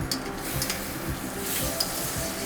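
Vegetables simmer in a pan for veggie spirals, giving a steady close bubbling hiss with soft stirring scrapes and faint pot clinks throughout, no voices.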